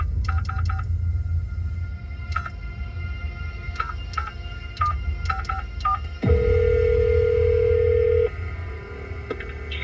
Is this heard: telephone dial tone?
yes